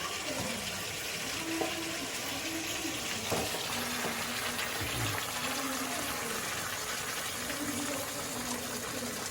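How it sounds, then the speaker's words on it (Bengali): Hot water pours steadily into a pot of braising meat, giving a continuous rushing, gushing wash at close range with no talk. "গরম জল দিয়ে দিলাম মাংস কষিয়ে"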